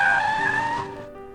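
Video game car skidding, a loud, sharp tire squeal that starts at full strength and slowly fades and thins out over about a second, heard alone with no voices.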